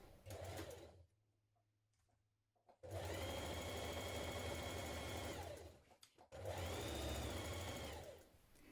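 A domestic sewing machine runs a T-shirt side seam at a 1.5 cm allowance. It makes two long, steady bursts of loud, close motor whir and needle chatter, split by a quiet pause with a faint hum.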